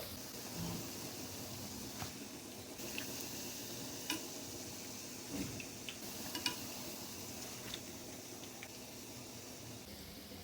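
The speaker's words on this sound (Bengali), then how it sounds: "বড়াগুলো আমি গোল্ডেন ব্রাউন কালার করে ভেজে নিচ্ছি" Malabar spinach and shrimp fritters frying in a pan of oil, a steady soft sizzle with small pops and crackles throughout, fairly quiet and without talk.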